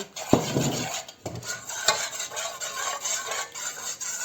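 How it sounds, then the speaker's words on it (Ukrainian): A spoon stirs honey briskly in a container until it dissolves, with a steady scraping swirl and a few light clinks against the side, close and continuous. "розмішуємо до повного розчинення"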